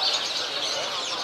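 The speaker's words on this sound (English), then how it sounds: "These are the small parrots." Dense, bright chirping and twittering from many small caged parrots at once, a continuous busy chatter close by with no pauses.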